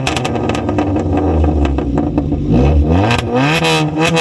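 Modified Maruti Swift with a straight-pipe exhaust, running on CNG, revs loudly up close in several sharp blips that climb and fall, then one long rising rev toward the end, with no talking.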